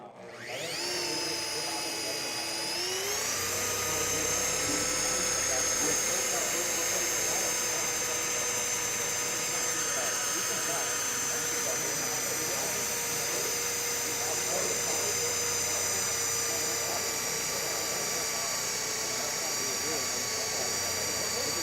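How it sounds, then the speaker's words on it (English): A high-pitched power tool whines steadily as it cuts scratches out of automotive paint during a Dr.ColorChip repair, spinning up near the start and then running continuously and loud throughout. "Now we're cutting the scratches out, and then we're gonna polish them out after that."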